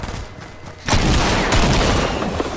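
Rapid gunfire in the video game Fatal Field erupts suddenly and keeps going as a dense, loud, continuous burst of shots after a quieter moment.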